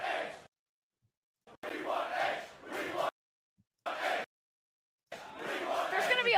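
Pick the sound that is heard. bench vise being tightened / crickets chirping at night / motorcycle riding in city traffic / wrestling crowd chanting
wrestling crowd chanting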